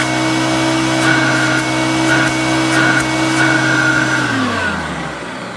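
A Hoover TurboPower 1 vacuum cleaner runs with a steady, loud motor drone and a few brief pitch wobbles, then begins to wind down near the end.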